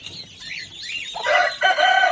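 An Aseel rooster and hen in a cage cluck and call, close and fairly loud, ending in a strong burst resembling a crow.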